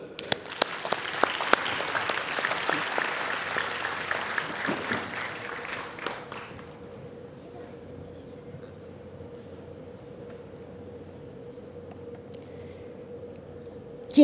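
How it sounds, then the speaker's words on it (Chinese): Applause breaks out at a National Day ceremony: a dense crowd clapping for several seconds that fades out, leaving a low steady hum with a sharp knock at the very end. "现在让我们掌声欢迎侨胞代表"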